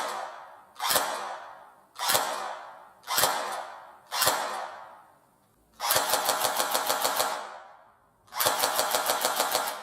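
A Cyma CM125 electric airsoft replica fires several single shots, then two rapid full-auto bursts, each a fast mechanical rattle of repeated cycles, loud and close with no talking.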